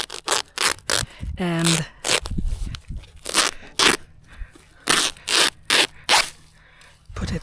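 Weed-barrier cloth being cut in a garden, a series of rough crunching, scraping bursts in irregular rhythm, close and fairly loud, with a brief voice partway through.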